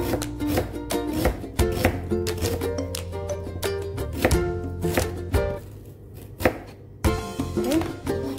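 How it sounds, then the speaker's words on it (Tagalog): A knife chops cucumber into small pieces on a cutting board, firm rapid taps in uneven bursts with short pauses, close and fairly loud, with no talking. "Tapos, hiwain kong maliliit."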